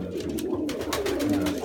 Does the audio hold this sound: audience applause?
no